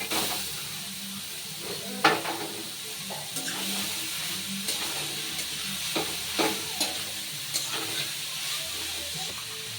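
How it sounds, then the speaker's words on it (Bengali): Grated papaya frying with ginger in a pan, a continuous sizzle and hiss with intermittent spatula scrapes and stirring knocks close by, steady over the whole stretch. "আমি এর মধ্যে এখনই পেঁপেটা দিয়ে দিচ্ছি, গ্রেট করে নেওয়া পেঁপে"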